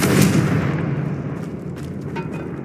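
A Confringo blasting spell goes off in a Harry Potter video game: a loud, close burst that tails away into a rumbling decay, with faint effects trailing after.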